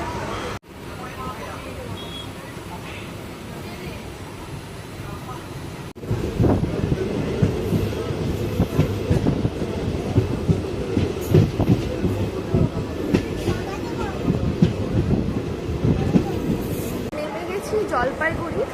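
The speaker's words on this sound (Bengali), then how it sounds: "তো এতক্ষণে ট্রেনটা ছাড়লো" The 12343 Darjeeling Mail runs on the rails between Sealdah and New Jalpaiguri, a steady rolling rumble with rhythmic wheel clatter that grows louder and rougher partway through, heard from inside the train with voices talking in the background.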